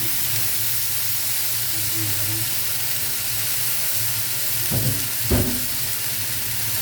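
Steady hiss of frying in a hot pan while vegetables go in for Filipino pakbet, with a couple of brief louder clatters near the end and a low background hum.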